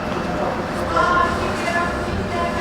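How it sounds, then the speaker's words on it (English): Low, continuous rumble and rattle of a Bucharest Metro train moving through a station, with a faint high squeal partway through. "Welcome to the Bucharest Metro."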